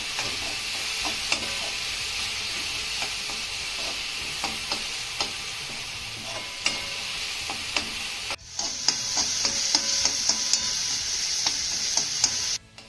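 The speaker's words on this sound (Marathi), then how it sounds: "हा टॉमॅटो आपल्याला चांगला मौसूत होईपर्यंत परतून घ्यायचा आहे" Finely chopped tomato sautés in a pan, a steady bright sizzle with occasional ticks of a spatula stirring, growing louder and fiercer in the last few seconds before cutting off.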